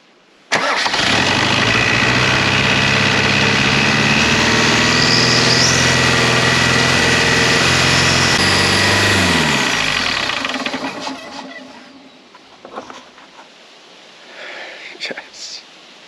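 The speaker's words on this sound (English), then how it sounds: "It's over revving, probably need to adjust the throttle" A diesel engine with a Bosch VE injection pump bursts into life and over-revs at a high, strained pitch for about ten seconds, then winds down and dies, leaving faint clicks.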